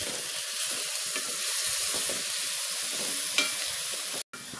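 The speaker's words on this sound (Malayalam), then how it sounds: "ഉള്ളി ഇപ്പം നന്നായിട്ട് വഴന്ന് വരുന്നുണ്ട്." Chopped onions and green chillies sauté in a pan with a steady, close hiss and sizzle, the occasional scrape of stirring breaking through, and a brief dropout near the end.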